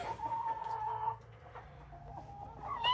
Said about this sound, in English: He was just in here clucking